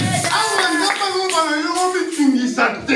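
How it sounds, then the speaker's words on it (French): A church congregation clapping and crying out in joyful acclamation, rhythmic claps mixed with loud voices shouting and singing together in a lively burst. "Acclamons très très très fort avec le cri de joie"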